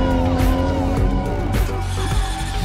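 Tuned car engines, including screaming V6, inline-six and V10 units recorded for Cyberpunk 2077, rev loudly and close up with a sharp, rasping tone and a quick passing whoosh.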